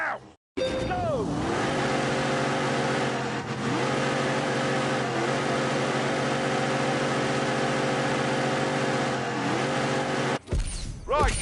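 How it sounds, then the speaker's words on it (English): A Dodge Demon does a burnout, its engine held at a loud, steady high-rev roar for about ten seconds with faint tyre squeal riding on top, then cutting off abruptly. "And it was time for the drivers to warm their tyres. In 3, 2, 1, burn out!"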